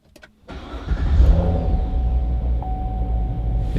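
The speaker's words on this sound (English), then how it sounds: "So I might start the car for one sec just to show you this." A 2017 Corvette Stingray C7 engine cranks and fires after a brief quiet moment, then settles into a loud, steady, rumbling idle close by, with a faint tone chiming near the end.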